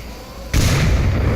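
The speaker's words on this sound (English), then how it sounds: "No, I'm sorry, that was a frag grenade." A frag grenade goes off in the VR shooter Onward: a sudden loud close blast after brief quiet, followed by a sustained heavy rumble through the rest of the moment.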